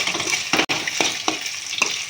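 Egg rice fries in oil in a pan, giving a close, even sizzle broken by sharp scrapes and taps of a spoon stirring about every half second.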